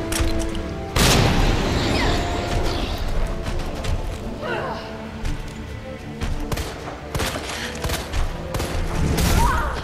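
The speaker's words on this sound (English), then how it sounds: "Throw the grenade." Booming blasts and rattling gunfire from the video game Resident Evil 2 as a grenade is thrown, loud bursts with a heavy hit early on and repeated impacts after.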